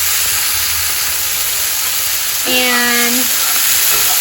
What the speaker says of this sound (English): you're just gonna let the onions and peppers kind of saute in here